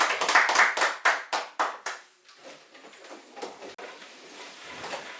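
A church congregation claps together in a steady rhythm, about eight sharp, close claps that fade out. Softer, scattered sound and murmuring follow in the room.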